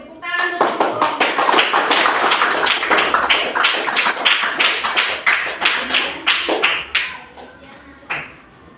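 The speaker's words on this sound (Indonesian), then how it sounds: "tepuk tangan untuk kelompok 1" Classroom applause for a student group, many hands clapping in a steady, dense rhythm for several seconds before tapering off, close and loud.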